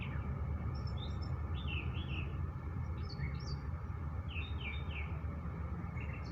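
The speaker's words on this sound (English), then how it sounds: "Oh my God, listen to the birds." Several birds chirp and tweet in short high bursts over a low, steady outdoor rumble, moderately distant and fairly faint.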